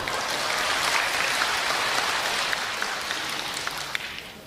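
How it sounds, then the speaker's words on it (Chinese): Sustained applause from an audience at a live Chinese crosstalk comedy show, a dense wash of clapping that holds steady and slowly tapers toward the end. "就那大姐还鼓掌呢"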